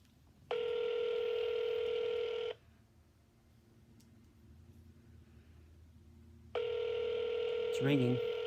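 Two long ringback tones sound over a phone line with a quiet gap between them, steady and electronic, as an outgoing call to an organization's headquarters rings through; a faint voice stirs at the end.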